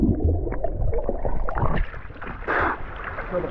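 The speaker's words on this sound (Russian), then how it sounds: "Ну все, я ныряю вместе с вами." A swimmer plunges into warm sea water off a secluded beach near a cave, giving a gurgling, splashing wash of water with a brighter splash burst partway through, close to the microphone.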